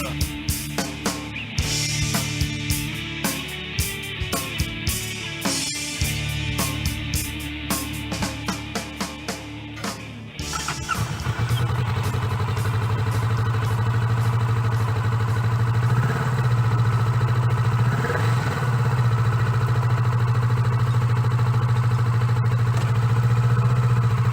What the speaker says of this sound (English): That bike you just heard comes from this gentleman with me now from Levittown, New York, Mr. Chris Geiss.